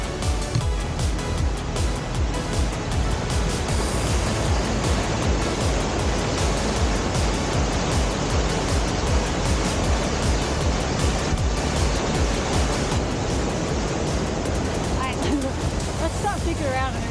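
Steady, loud broadband rush of a waterfall, partly frozen, heard up close and continuous throughout, with wind buffeting mixed in and no clear talk over it.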